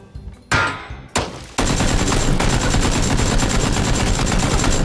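Loud, close automatic gunfire in a shooter video game: a few separate shots, then a continuous dense stream of rapid fire that keeps going to the end.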